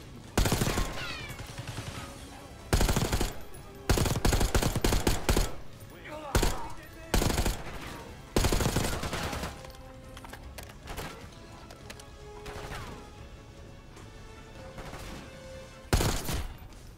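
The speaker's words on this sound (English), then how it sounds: "They're shooting! Get down!" Enemy gunfire in the Call of Duty Black Ops 6 campaign: loud bursts of automatic fire come in repeated volleys between quieter stretches of battlefield noise, with game characters shouting over it.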